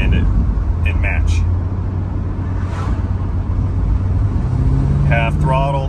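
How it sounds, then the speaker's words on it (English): A 2006 Ford Mustang GT with a lean-running engine fault cruises at about 30 mph, its loud, steady engine drone and road noise filling the cabin, with brief voice sounds near the end. "We're on the accelerator, about 30 miles per hour."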